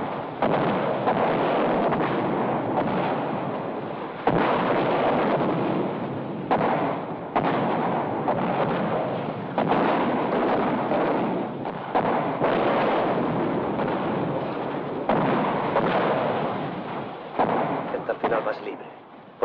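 An artillery barrage pounds a battlefield ahead of an infantry assault, a dense, continuous roll of heavy booms and rumbling blasts that stays loud for the whole stretch, with sharper impacts now and then.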